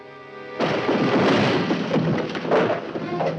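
A loud burst of gunfire breaks out abruptly after a brief quiet passage in a film scene, with several rapid cracks and blasts crowding together into a noisy, chaotic volley close by.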